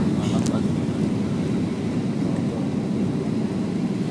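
Steady broadband roar of an airplane cabin during landing approach, a constant low rumble throughout with no distinct events.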